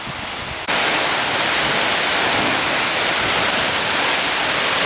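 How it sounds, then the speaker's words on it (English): Waterfall near New York City roars as a steady, loud broadband rush that swells abruptly after a brief quieter opening and holds constant, with no voices audible over the falls. "you can actually walk behind this waterfall"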